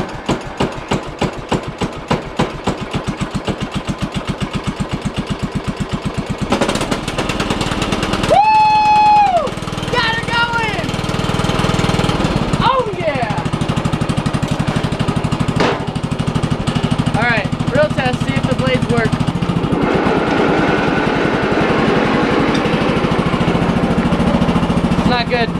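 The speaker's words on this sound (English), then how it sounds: "We had this problem before. We need a new lawnmower." A struggling lawn mower engine sputters through repeated pulses at first, then catches and runs loudly and steadily nearby, with voices talking over the drone.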